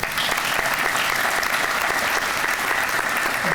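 Steady audience applause fills the room for several seconds, dense clapping at a constant level with a faint voice underneath near the end.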